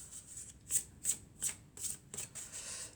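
A deck of tarot cards is cut and riffled by hand, producing a series of five or six crisp, close flicks at roughly even intervals over a quiet background.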